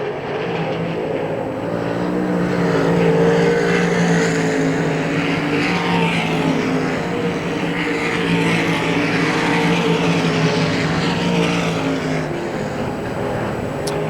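IMCA RaceSaver sprint cars roar around the dirt oval at Hagerstown Speedway during a qualifier, a continuous loud blended engine drone from the pack swelling and easing as cars circle, heard from the stands.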